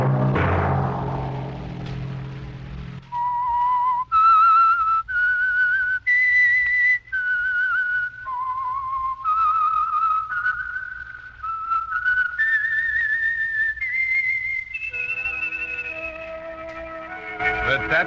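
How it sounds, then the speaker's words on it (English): A clear whistled theme melody of sustained notes from the radio show The Whistler plays at a steady tempo, close and prominent, after a brief burst of other sound at the start. "Let that whistle be your signal for the Whistler each Sunday night at this same time"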